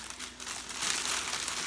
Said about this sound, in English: Let me get my scissors here to open this one up.